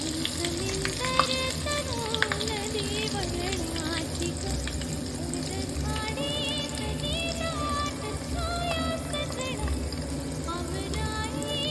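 Crab masala sautéing in hot oil, a steady dense sizzle and frying crackle with stirring clinks throughout, close and continuous.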